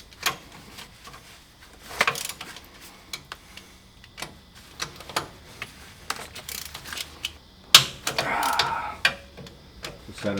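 Nuts on a Toyota Land Cruiser are cracked loose with hand tools during differential and driveshaft disassembly, giving irregular sharp metallic clicks and snaps, close by, with a louder burst of ratcheting near the end.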